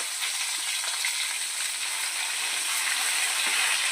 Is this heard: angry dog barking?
no